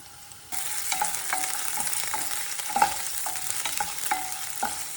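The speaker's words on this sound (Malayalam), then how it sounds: "ചെറിയുള്ളി പിന്നെ പച്ചമുളക് ആദ്യം ഒന്ന് വഴറ്റിയെടുക്കാം." Shallots, ginger and green chillies sautéing in a pan for Kerala kadachakka curry, a bright continuous sizzle that starts abruptly, with regular light taps and scrapes of a spoon stirring, close up.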